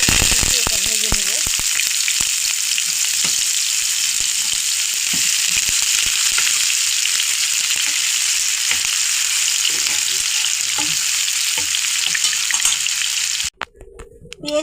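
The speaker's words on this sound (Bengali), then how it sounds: "পেঁয়াজ ভাজা হয়ে গেছে" Onions fry in oil in a wok with a loud, constant sizzle and occasional clicks of a spatula, stopping abruptly near the end.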